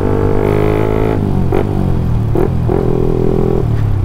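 A Yamaha MX King motorcycle bored up to 170 cc, used as a daily rider, runs close by with a loud engine drone and several quick throttle blips and gear changes in succession.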